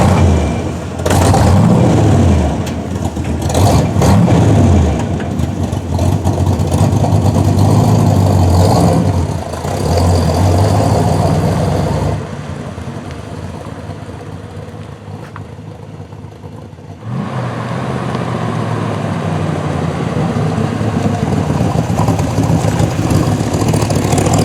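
A 1967 Corvette V8 running after a carburetor adjustment, a loud close engine with uneven rises and falls in revs over the first half, a quieter stretch, then a steady idle.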